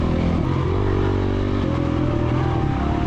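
An off-road motorcycle engine in a racing video game drones loud and continuous, its pitch shifting up and down as the bike revs and changes gear.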